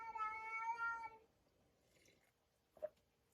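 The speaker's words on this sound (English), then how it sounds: "That's my sister's cat." A house cat gives one drawn-out meow close by at moderate volume, followed by near silence and a single small tap.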